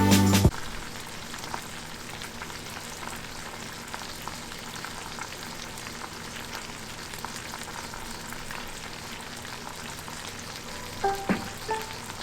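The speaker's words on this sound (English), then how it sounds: "Now gently slide it back on the pan and cook for another 20 to 25 minutes." Shrimp wrapped in banana leaf fry in a pan with a steady, even sizzle like light rain that goes on throughout. A brief clatter comes at the start and a few small knocks come near the end, with no talk.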